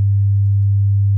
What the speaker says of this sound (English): And now, beautiful sine wave.